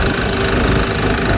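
Diesel engine swapped onto a Sears garden tractor runs steadily at a low, rough idle, a continuous close thrum with a shaking vibration, nothing else heard.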